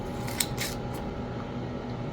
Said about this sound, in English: I'm going to take a small piece of tape and I'm going to go ahead and cut it with a pair of scissors